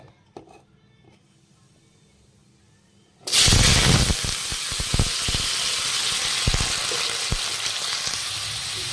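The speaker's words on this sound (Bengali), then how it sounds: "তেলটার মধ্যে এবার আলুটা দিয়ে দেবো" Potatoes dropped into hot oil for frying erupt into a loud, sudden sizzle partway through, after a quiet stretch, then keep up a steady crackling fry with scattered pops.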